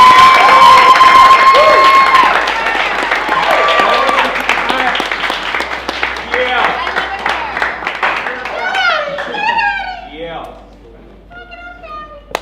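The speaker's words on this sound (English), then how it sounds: "Let's give a round of applause for Professor Oak, Donovan McIntosh." Audience at a reunion show for a fashion competition series claps and cheers loudly, with whoops and shouts over the applause, then thinning out as a few voices talk near the end.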